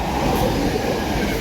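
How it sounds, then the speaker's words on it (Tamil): An intercity express train rushes past with a loud, steady roar of wheels and rail noise that fills the short moment without a break. "அப்போ இது வருங்க, இது எக்ஸ்பிரஸ் ட்ரெயின்."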